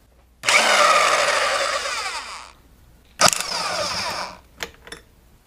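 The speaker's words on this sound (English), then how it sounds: "hopefully the impact will work" An impact wrench removes the clutch nut on a 1976 Honda MR175 motorcycle. A loud, sustained two-second burst of rattling hammering is followed by a shorter burst and two quick final taps, with no talking.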